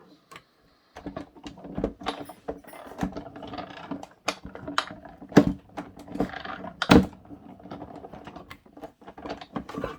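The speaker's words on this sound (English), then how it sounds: "Let's get the old Big Shot out." A Big Shot die-cutting machine cranked by hand, giving a dense run of clicky, ratcheting mechanical knocks and taps, close and fairly loud, with a couple of sharper clunks partway through and no talking.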